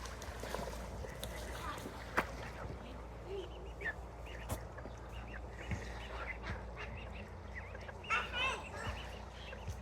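Mallard ducks in a park pond give scattered quacks and soft calls among outdoor ambience, with water sounds and other birds, fairly faint and intermittent throughout.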